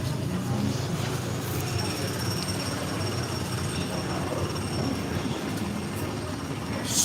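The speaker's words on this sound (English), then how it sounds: "Straight ahead, we've got the Seven Dwarfs Mine Train." The Seven Dwarfs Mine Train roller coaster at Magic Kingdom rumbles along its track at night in a steady, continuous roar, with faint high squeals from the wheels.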